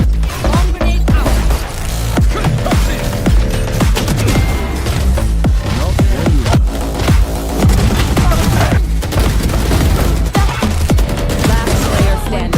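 Dense, continuous gunfire and blasts from the video game Valorant, including a grenade explosion, pound steadily and loudly amid layered game sound with no clear pauses.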